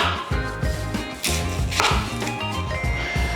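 A knife chops rhythmically through vegetables on a cutting board, trimming off the ends, with steady close thuds and a brief scrape partway through, no talking.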